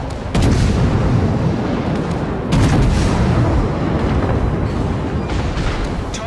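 Naval gunfire from World of Warships, with friendly shells striking an allied ship: dense, loud booming rumble with two heavy impact bursts near the start and midway, followed by sustained battle noise.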